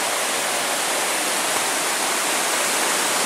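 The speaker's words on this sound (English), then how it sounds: "I just got to a pretty cool waterfall and bridge" Waterfall on the Devil Track River along the Superior Hiking Trail, a dense, steady rushing roar of falling water heard close and loud without pause, no voices over it.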